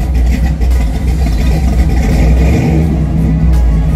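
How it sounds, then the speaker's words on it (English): A classic car's engine at a car meet, loud and close, revving and holding a deep rumbling roar with a steady low growl throughout, no talk over it. "I just got someone to let me rev their engine."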